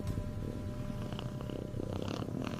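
A cat makes soft sounds over a steady low purr, with a few brief higher chirps near the end, close and alone with no talk.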